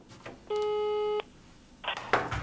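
A single steady telephone call tone sounds for under a second while booking car-sharing by phone, followed by faint rustling and a brief voice.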